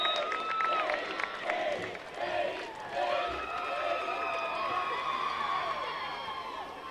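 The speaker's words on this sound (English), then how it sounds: "the crowd is yelling" Spectators shout and cheer throughout at a CIF Division 2 girls' high school soccer match between Grossmont and Valhalla, a steady blend of distant crowd voices and commentary, with no clear breaks.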